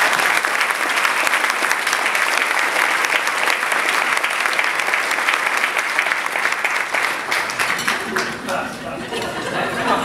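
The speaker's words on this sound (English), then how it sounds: "please give them a big round of applause" Applause from the audience at a Hendersonville chamber of commerce luncheon: steady, full clapping that thins out toward the end into scattered claps.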